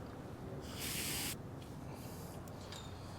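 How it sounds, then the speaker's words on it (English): A short, sharp burst of compressed air blasted through a nozzle into a cylinder head port of a 1961 Imperial engine, a loud hiss lasting about half a second, followed by fainter sputtering puffs. "we're going to take a towel, some compressed air, and we're going to plug the port up with our nozzle, and then you just blow into it"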